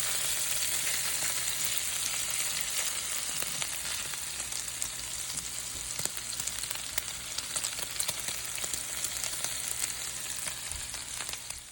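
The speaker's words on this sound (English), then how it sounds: "I'm going to cook these up until they become nice and golden brown and a little bit crispy." Pancetta fries in a pan with a continuous, close crackling sizzle that carries steadily the whole time, broken by scattered pops and spits, with no talking.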